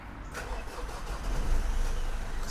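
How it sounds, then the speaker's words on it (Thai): A Mitsubishi Triton Mega Cab 2.4 pickup's engine cranks via push-button start and catches, settling into a smooth, quiet idle with a low steady hum. "เสียงเครื่องยนต์เนี่ย นิ่มมาก ๆ นะครับเงียบมากครับ"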